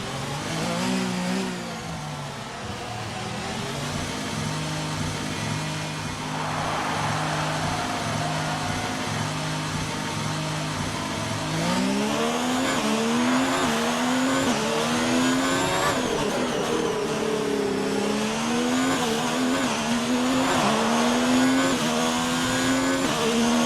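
Formula 1 car engine in a racing video game on the Monaco circuit, a loud, steady high-pitched whine that rises and falls through gear changes and revving, continuous and close throughout.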